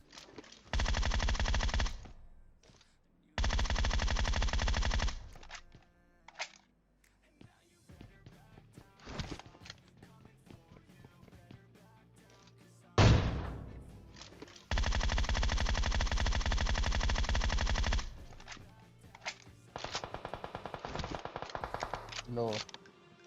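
Bursts of rapid automatic gunfire in PUBG Mobile, loud and sustained, alternating with scattered single shots and quieter game sounds.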